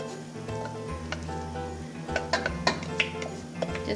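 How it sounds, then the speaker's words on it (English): Washed quinoa is tipped into a hot pan for a zesty lime quinoa dish: a low sizzle with scattered light taps and ticks as the grains land, under a faint steady hum. "Now I'm gonna take my quinoa and place it in the pan."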